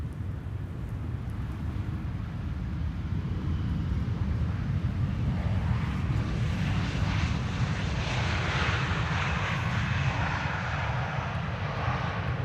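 Air France Bombardier CS300 jet arriving at Amsterdam Schiphol, a sustained, fairly loud engine roar with a broad rushing texture that swells slightly midway and continues steadily to the end, no talking.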